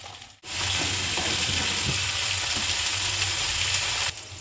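Bitter gourd and vegetable stalks hit hot oil in a pan and break into a loud, dense, continuous sizzle, close by, with faint stirring sounds underneath.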